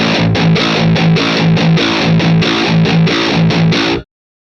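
Crunchy high-gain electric guitar through an Orange high-gain amp plays a choppy, rhythmic riff of short muted stabs, loud and upfront, ending abruptly.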